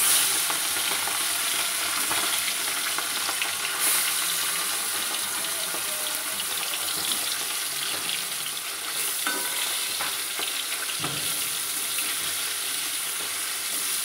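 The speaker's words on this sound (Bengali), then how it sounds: "এবার মাছগুলো ভেজে নিচ্ছি" Fish frying in hot mustard oil in a wok, a loud continuous crackling sizzle lasting throughout, with occasional stirring knocks and faint running-water sounds alongside.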